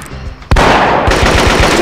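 Sustained rapid machine gun fire in the PC shooter Marine Sharpshooter 2 bursts in abruptly after a brief quieter moment, loud and close, with a fast rhythmic chatter of shots continuing to the end.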